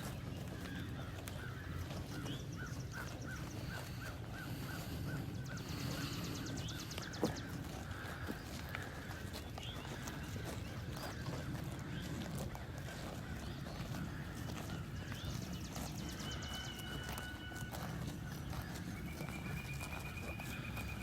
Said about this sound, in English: There's just something about hearing the cows rip the grass up.